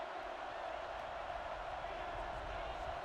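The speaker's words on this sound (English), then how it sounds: "This crowd is energetic, and they'd really love to see a stop right here." In NCAA Football 09, a stadium crowd roars in a steady, dense wash of cheering that holds at an even level throughout, with commentary voices faintly mixed in.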